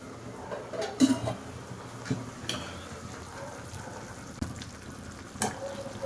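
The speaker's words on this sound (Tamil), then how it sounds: "மறுபடியும் ஒரு கிண்டு கிண்டுறாங்க, அடி பிடிச்சிடக்கூடாது" Sardine fish curry is stirred in a pan, with intermittent scraping and clinking of a spoon against the pan over a soft, constant simmering sizzle, the strokes irregular and close.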